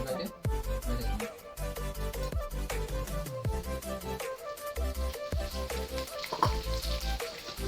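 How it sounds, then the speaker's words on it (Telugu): Coated chicken pieces frying together in oil in a pan at a street-style stall, a steady sizzle with repeated sharp clanks of utensils and a loud low rumble of burners or stall noise throughout. "మొత్తం ఒకేసారి ఆ చికెన్ అంతా దీంట్లో అయితే ఫ్రై చేస్తాము"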